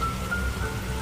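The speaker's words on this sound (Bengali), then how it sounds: "শেষ কবে এত মুষলধারে বৃষ্টি হয়েছে যেটা মনে নাই।" Heavy rain falls in a cartoon scene as a dense, steady hiss of downpour. A faint tonal hum runs underneath. No voices are heard during the brief stretch.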